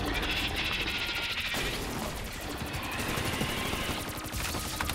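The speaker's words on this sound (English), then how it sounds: "Just shooting the crap out of him" Rapid, continuous automatic gunfire aimed at the boss in Call of Duty Zetsubou No Shima, a steady mechanical rattle of shots running throughout with a brief shift midway, loud and close.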